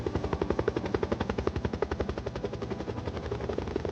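Helicopter on a fishing trip, its rotor thumping in a fast, steady beat, moderately close and continuous, with no talking.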